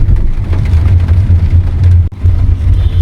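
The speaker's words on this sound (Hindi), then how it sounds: "अभी देखिए बारिश अच्छी हो रही है" Steady heavy rain pours outdoors in Faridabad, a dense, constant wash of noise with a low rumble underneath, briefly dipping near the middle before resuming just as strongly.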